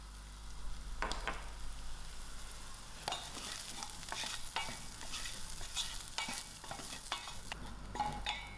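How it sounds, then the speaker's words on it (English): Spices with a sprinkle of paprika fry in a pan for a chana soup made with canned chickpeas. A soft, continuous sizzle runs under repeated scraping stirs, with no talking. "Allow this to fry for a few seconds."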